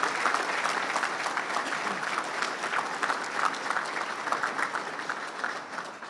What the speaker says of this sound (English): Could we give them a round of applause for the work they do?